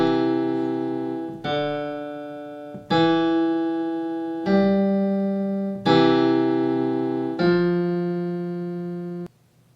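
The opening of Ode to Joy plays on a keyboard with both hands: six sustained, clear electronic tones struck one after another at an even pace, each fading slightly before the next, with no talking.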